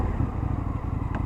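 An Indian FTR 1200 motorcycle with an Akrapovic exhaust downshifting, a loud, steady, close engine and exhaust rumble throughout.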